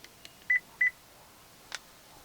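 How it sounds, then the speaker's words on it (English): A GM truck gives two short, clear electronic beeps close together, confirming that a key fob has been programmed, followed later by a faint click in an otherwise quiet setting. "And then you heard that beep."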